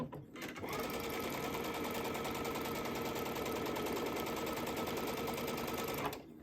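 A sewing machine runs nonstop while chain-sewing quilt pieces, a loud, fast, even mechanical whir and needle rattle held for about six seconds, then stopping.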